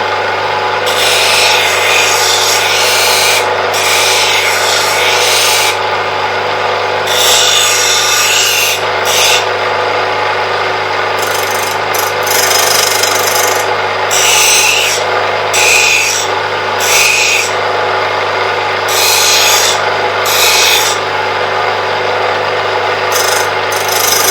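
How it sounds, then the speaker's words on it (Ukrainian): A loud, steady grinding rasp of a screwdriver tip being sharpened on a bench grinder wheel, continuing for a long stretch with brief surges and dips. "Заточуємо нашу викрутку на наждаки."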